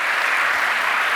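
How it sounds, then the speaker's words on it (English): An audience at an awards ceremony applauds in a dense, even burst of clapping that fills the whole short moment, loud and close. "Another round of applause for Dr."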